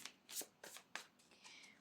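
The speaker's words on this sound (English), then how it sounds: "So I'm just going to give these cards a quick shuffle" Tarot cards shuffled by hand at close range, several quick crisp riffling bursts in a short uneven rhythm, quiet and alone.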